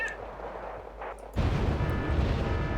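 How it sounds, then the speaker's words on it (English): Mortar fire in the military strategy game Wargame Red Dragon: a sudden heavy blast rumbles in after a quieter stretch and holds as a dense, loud roar of shelling to the end. "here's the mortars that I was expecting"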